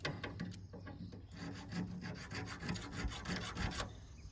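A Christmas tree shearing blade, used for trimming Canaan and balsam fir, is sharpened with a file in a run of rapid rasping strokes on a farm, close and steady with no talking.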